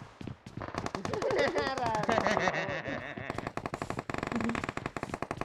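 Rapid automatic gunfire rattles through a PUBG Mobile match, loud sustained bursts with a short pause before another volley, while someone talks over the shooting.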